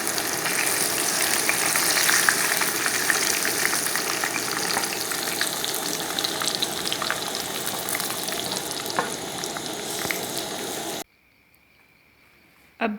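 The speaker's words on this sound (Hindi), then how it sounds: "अब ये अच्छी तरह से तल चुका है।" Chicken pieces deep-fry in oil restaurant-style, giving a steady, busy sizzle and crackle for about eleven seconds before the sound cuts to near silence.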